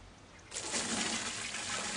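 Weed tea liquid poured through a seed tray with holes in the bottom, a steady close splashing trickle that starts abruptly and runs on continuously.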